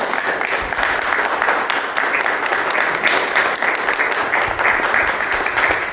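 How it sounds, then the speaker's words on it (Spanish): A church congregation gives loud, sustained applause during a Spanish-language worship service, a dense steady wash of many hands clapping that carries evenly from start to finish. "Denle un fuerte aplauso a Cristo Jesús."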